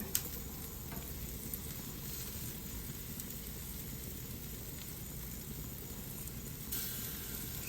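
Honey garlic pork chops sear in a sticky sauce in a hot pan, a steady close sizzle and crackle with faint spatter, continuous and even, with no talking.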